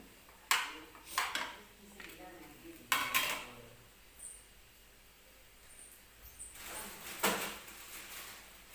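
Upma is sautéed in a pan with a spoon, giving sharp scrapes and metallic clinks in irregular bursts separated by quieter stretches of low background noise.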